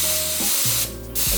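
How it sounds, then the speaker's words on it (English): A spray gun purges car wrap material at 20 psi, giving a steady close hiss with a brief drop in the middle before the full spray returns. "Give it like a squirt just to purge the gun, and make sure you have flow and everything"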